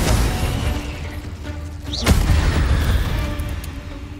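A Confringo fire spell bursts in Hogwarts Legacy with a sharp boom and whooshing flare, set over a continuous rumble of game ambience and music.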